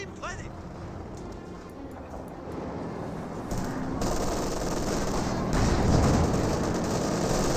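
Battle noise from Company of Heroes 2, with a T-34-76 tank trading fire with Volksgrenadiers: sustained machine-gun fire and rattling gunfire build steadily in a dense din, under a caster's talk.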